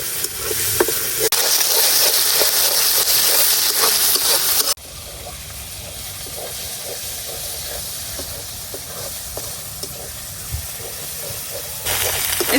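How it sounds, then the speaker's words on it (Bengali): Ground onion and garlic paste frying in oil makes a loud, continuous close hiss and sizzle that drops a little in level partway through and then rises again, with faint stirring taps. "এই বাটা পেঁয়াজ রসুনটাও একটু ভালো করে ভাজিয়ে নিলাম"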